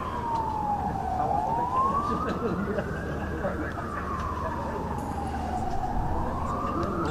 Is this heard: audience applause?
no